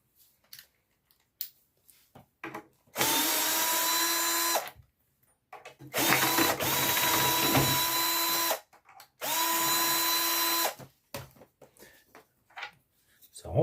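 Three long bursts of a cordless power screwdriver with a bit backing screws out of a flat-pack observation tower, each run steady and close, separated by pauses with faint handling clicks and a little talk.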